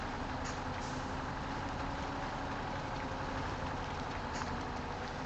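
A truck engine in the MudRunner video game drones steadily as it struggles for traction in mud, a continuous low rumble with no speech over it.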